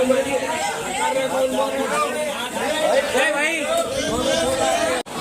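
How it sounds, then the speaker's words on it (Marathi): Dense, steady crowd chatter packs Nimrah Cafe near Charminar in Hyderabad, a busy babble of many overlapping voices filling the whole scene without pause. "त्याच्यासमोरच हा चार मिनार नेमरा कॅफे मध्ये जबरदस्त गर्दी बघा"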